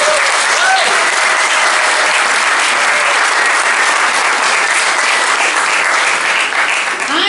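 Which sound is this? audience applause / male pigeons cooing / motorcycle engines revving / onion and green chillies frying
audience applause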